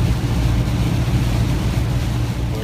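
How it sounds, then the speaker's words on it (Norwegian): Strong coastal wind buffets a car on the Jutland coast near Løkken in stormy weather, a steady, loud low roar with constant rumbling gusts throughout, no voices. "Her er det kraftig vind, altså."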